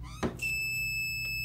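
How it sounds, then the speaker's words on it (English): A homemade battery-powered door alarm is triggered when the door opens. After a short clunk it gives a steady, piercing electronic beep that holds evenly and close by. "And that's a simple alarm."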